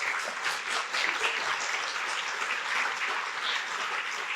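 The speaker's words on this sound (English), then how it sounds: "So we can give you a huge round of applause." An audience at a scholarship banquet gives scholarship reviewers a steady round of applause, a dense, even wash of clapping from a crowded room with no voices.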